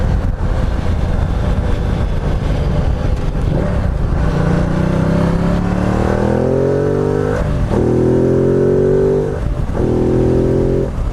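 A Ducati Multistrada 1200S motorcycle accelerating hard through the gears, its engine rising in pitch in loud, close sweeps with brief dips at each gearshift, accompanied by steady wind roar.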